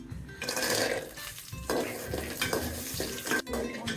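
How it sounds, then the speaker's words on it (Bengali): Spices for a crab and coconut shukto recipe fry in oil in a pan while being stirred. A close, steady sizzle mixes with scraping and clinking of a utensil against the pan. "এগুলা তেলের মধ্যে একটু ভেজে নিচ্ছি।"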